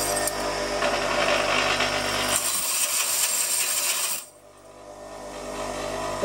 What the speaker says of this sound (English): Star wheel dresser.